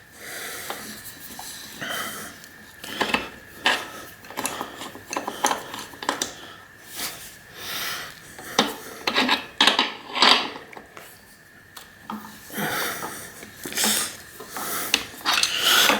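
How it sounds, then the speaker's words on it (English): A crank remover threaded into a Fuji Nevada mountain bike crank, with repeated ratcheting and metallic scraping in uneven bursts up close, alone with no talk. "Then get the crank remover in,"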